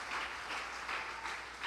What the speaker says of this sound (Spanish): Dele otro aplauso fuerte al Rey bendito de la gloria.